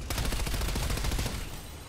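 An M82 sniper rifle fires a rapid burst of close, loud shots in a zombies video game, the reports running together into a dense rattle before tailing off.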